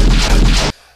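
Gunshots from the film Raiders of the Lost Ark, a loud rapid volley of several booming shots that cuts off abruptly into near silence.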